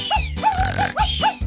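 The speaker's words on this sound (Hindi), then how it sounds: "तुम्हारा कुत्ता बहुत ऊंचा भौंकता है।" A robot dog barks loudly and close, a few sharp, tonal, yelping barks in quick succession with short pauses between them, heard alone without talk.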